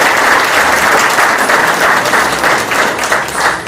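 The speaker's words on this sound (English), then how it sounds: "She did good. We can applaud her." Loud, steady applause from an audience, dense clapping that continues at an even level throughout.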